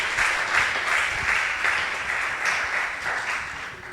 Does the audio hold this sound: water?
no